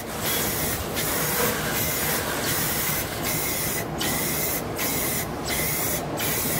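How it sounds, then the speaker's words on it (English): High-gloss black Rust-Oleum spray paint hisses onto a canvas in steady, loud bursts, about eight spritzes separated by brief breaks, close up and with no talking. "We're gonna go ahead and put our black coat over it. It's gonna be a high gloss black Rust-Oleum."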